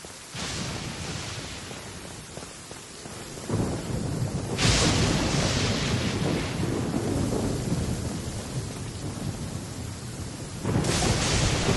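A thunderstorm in the Genshin Impact video game: loud, steady rain and rumbling thunder throughout, with sharp crashes swelling near the start and again toward the end.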